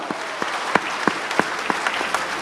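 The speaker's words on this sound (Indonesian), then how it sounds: "tepuk tangan" An audience at a sales seminar in Surabaya claps together, a continuous wash of applause with a few louder sharp individual claps standing out, close and steady throughout.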